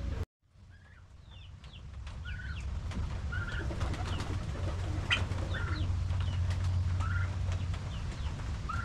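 Pigeons and other birds call in the open after days of rain, with soft coos and chirps repeating over a steady low background murmur at moderate distance.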